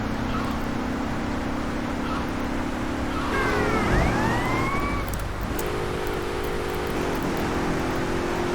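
Police car sirens wailing in a video game, a rising and falling siren call sweeping for a couple of seconds mid-clip over steady engine and road noise, moderately close.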